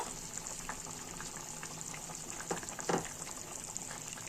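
Hog plums boiling in a covered pot for chutney, a steady soft bubbling and watery churn with a couple of louder gurgles near the end, close and without talk.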